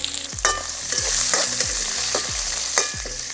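Onions fry in a pan with a constant sizzle, while a spoon scrapes and stirs through them in repeated strokes, close and clear.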